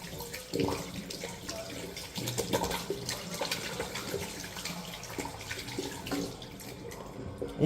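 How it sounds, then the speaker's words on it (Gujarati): Tap water running at a sink while hands are washed before a meal, a soft, fairly quiet splashing flow that rises and falls unevenly, with faint background sounds. "આમ જમવાનું છે એટલે હાથ બાથ ધોઈ નાખીએ"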